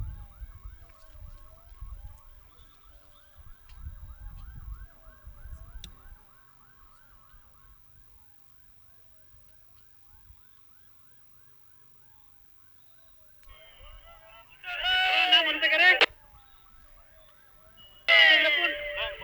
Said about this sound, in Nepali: एम्बुलेन्स क्र्यास साइटमा आइपुगेको छ